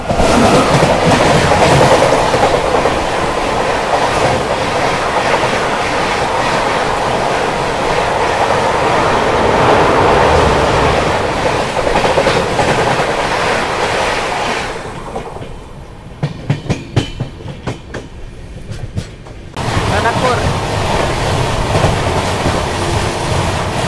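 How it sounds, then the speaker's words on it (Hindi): A Bikaner–Yesvantpur express train races past at high speed with a loud, steady roar and rumble. Near the end a brief gap lets rhythmic wheel clatter come through before the heavy roar returns. No one speaks. "गजब की रफ्तार के साथ निकली है बीकानेर यशवंतपुर"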